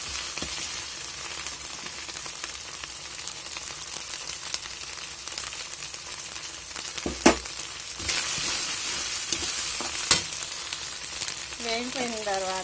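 Ginger and spices fry in hot oil for a spicy curry-point style chicken fry, giving a steady, fairly soft crackling sizzle with a couple of sharp utensil knocks and a brief voice near the end.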